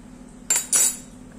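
A spoon clinks and scrapes twice against a bowl while banana muffin batter is stirred, two short bright strokes in a quiet kitchen.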